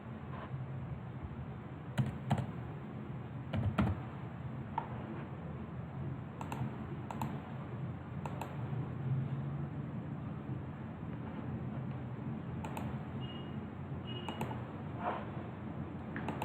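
Keys tap on a computer keyboard as a file name is typed, a few sparse, faint clicks in small clusters over a low steady hum, with no speech.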